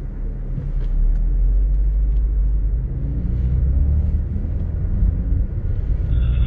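A BMW X4 M Competition with 510 hp pulls away on a race track, its engine a loud, steady low rumble that swells after the first second and holds strong throughout.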